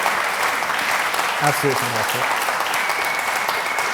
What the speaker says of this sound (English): So another round of applause for Esther Allen there.